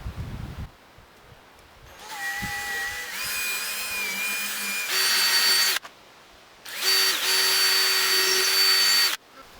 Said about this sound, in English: I find the center line and then drill the holes to go into these pocket bores